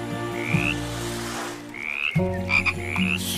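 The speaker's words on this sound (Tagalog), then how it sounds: "Tinanong nila Kuko at Koko kung saan ba talaga ang tirahan nilang mga palaka" Frogs croak repeatedly in short rising calls, clear and close, over a steady musical background.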